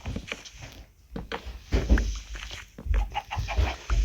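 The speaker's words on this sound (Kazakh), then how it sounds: "Тауық." A chicken clucks in a video game, with several short, close clucks over a busy, thumping game background.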